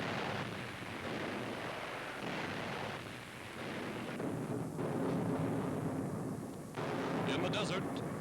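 Bombs from American bombers explode over troop transports and supply lines in a 1942 wartime attack, a dense, continuous roar of blasts and rumbling detonations, with a narrator's voice heard over the din.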